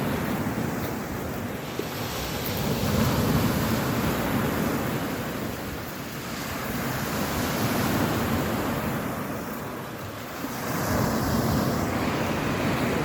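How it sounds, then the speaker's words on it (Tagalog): Continuous roar of strong sea waves breaking on a rocky shore at Lobo, Batangas, swelling and easing in broad surges, with wind noise and no voices. "Medyo malakas ang alon."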